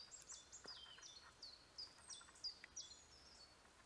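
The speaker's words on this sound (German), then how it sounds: "Und man hört überall verschiedene Vögel." Several birds in a marsh call and chirp in quick, overlapping high-pitched phrases, fairly faint and distant, over a quiet outdoor hush.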